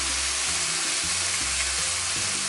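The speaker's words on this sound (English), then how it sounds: "place your pieces of chicken on there. And you just want to brown them" Chicken pieces browning in a hot pan for arroz con pollo, a loud steady sizzle and crackle of frying, close up with no talking.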